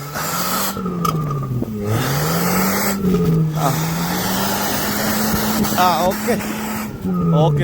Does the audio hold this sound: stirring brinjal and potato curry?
no